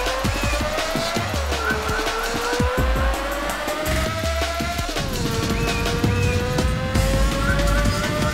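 Race cars in the Rage Racer video game roar off the starting line, a loud, close engine whine climbing and shifting through gears, with tire noise and other cars buzzing nearby.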